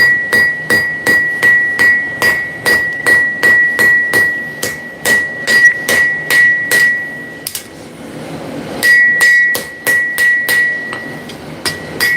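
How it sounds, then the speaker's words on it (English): A hammer strikes hot steel in a forging workshop, about two dozen rhythmic ringing blows that come close and loud, with a short pause before the strikes resume. "whenever I'm hitting the hot steel, it's gonna thunk, take a lot of that momentum out of the hammer."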